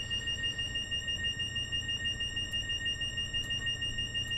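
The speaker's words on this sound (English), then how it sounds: "we're just going to have to annoyingly deal with this alarm until we nicely stop this train" A steady electronic brake fault alarm sounds continuously in a Class 222 Meridian cab in Train Simulator 2016, with high tones held over a low engine rumble.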